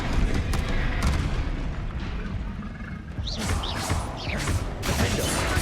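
Blasting-spell explosions in Hogwarts Legacy go off repeatedly amid loud, dense combat noise, with booming crashes and sharp bursts following one another close and loud, several strong hits clustering toward the end.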